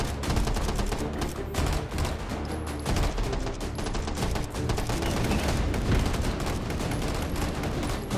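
Gunfire in the VR video game Hot Dogs, Horseshoes & Hand Grenades, dense rapid shots and bursts that barely let up, loud and close with no talking.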